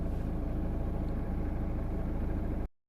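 A 2003 Kia Sedona 2.9 CRDI diesel with an intermittent fault that can stall it or put it into limp mode, heard on the move as a steady, loud, low cabin rumble that cuts off suddenly.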